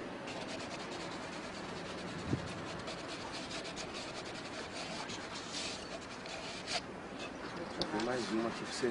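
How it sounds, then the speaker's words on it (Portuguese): Sandpaper rubs steadily over the ends of PVC pipes and the sockets of fittings, a continuous close scratchy rasp that runs the whole time with a few sharper scrapes near the end. "Depois você vai lixar as pontas dos tubos e as bolsas das conexões."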